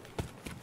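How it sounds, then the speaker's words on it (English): Two quick, faint footfalls from an enemy player running in the video game Escape from Tarkov thud in brisk succession, soft and somewhat distant. "I hear him running."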